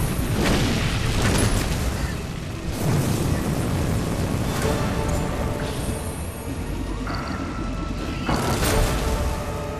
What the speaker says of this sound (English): So I used my meteor, I used my charge ability.